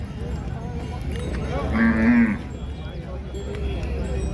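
A cow lets out a single drawn-out moo, near and fairly loud, over the busy murmur of the crowded weekly cattle market at Pebbair.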